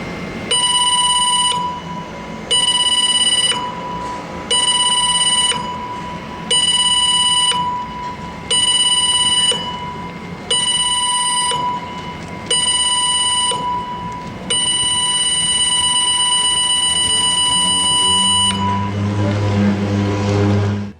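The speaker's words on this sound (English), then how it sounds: "The ship's general emergency alarm is about to be sounded for exercise purposes only." Cruise ship general emergency alarm sounding for a drill: a loud, shrill electronic tone repeating in seven short bursts, then one long continuous blast, with a low rumble joining near the end.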